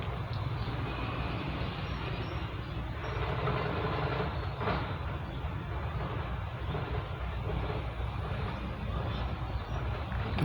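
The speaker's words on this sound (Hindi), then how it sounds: "ये देखें जी सामने कोई फ्रेट ट्रेन आ रही है।" Freight train hauled by double GMCU15 locomotives approaching on a railway line beside a road near Risalewala railway station, a steady low rumble and rolling clatter that holds for several seconds.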